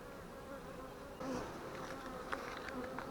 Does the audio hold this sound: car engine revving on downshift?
no